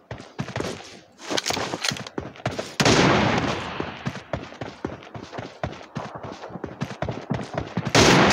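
Gunfire in a PUBG Mobile team deathmatch, rapid bursts of close shots and clattering impacts with short gaps, one longer dense burst near the start and another at the end.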